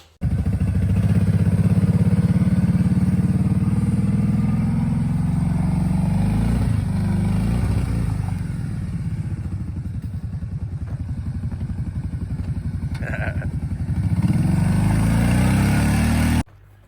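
A Kawasaki KFX 700 quad's engine running loud and close, revving and idling with a rough rumble, dipping as the rider moves off and rising again near the end before cutting out abruptly.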